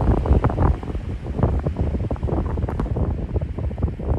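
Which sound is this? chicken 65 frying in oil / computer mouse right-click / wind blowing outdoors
wind blowing outdoors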